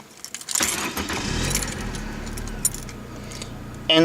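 A 1994 Mercury Tracer's small 1.9-liter CVH engine starts with a brief crank and settles into a steady, rumbling idle with faint metallic jingles, ending in a sudden louder burst.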